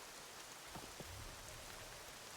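Rain falls in the video game Horizon Zero Dawn Remastered, a faint, even hiss of steady rainfall with a couple of soft, brief thuds partway through and no voices.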